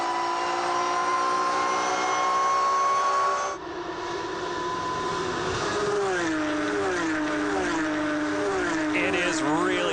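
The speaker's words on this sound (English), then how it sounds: "It is really hard to beat the sound of a Porsche GT3 Cup car, full song down the Andretti straightaway" Porsche GT3 Cup race car at full throttle down the Andretti straightaway at Canadian Tire Motorsport Park, a loud, sustained engine howl with rising gear pulls and a brief dip near the shift.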